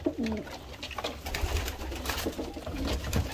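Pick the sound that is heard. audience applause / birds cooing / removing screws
birds cooing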